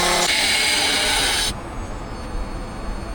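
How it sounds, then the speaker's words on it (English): A wood lathe turns scrap wood while gouges cut into it, giving a loud, steady, close scraping hiss that cuts off abruptly partway through and leaves a low rumble. "playing with my tools, my gouges, getting all kinds of good shavings going here and there"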